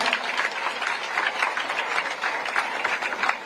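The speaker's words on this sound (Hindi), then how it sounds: "जोरदार तालियां मैम के लिए बजाओ भाई" Audience clapping for a guest at a news channel event, steady sustained applause from a crowd, moderately loud with no voices over it.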